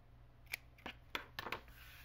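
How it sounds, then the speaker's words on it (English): Paper book page corners being trimmed with scissors, a few sharp separate snips spaced unevenly over about two seconds, close and quiet with no voices. "Now I want to trim these off."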